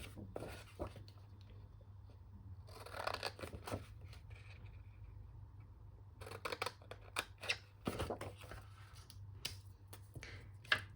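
Scissors cut through a 12x12 sheet of craft paper, making a series of soft, close snips and crisp clips in uneven clusters over a faint steady hum.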